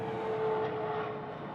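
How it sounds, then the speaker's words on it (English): A propeller aeroplane passing overhead outdoors, a steady droning hum with a faint tonal whine, moderately quiet and distant, heard alone with no talk. "Great timing with an aeroplane going over."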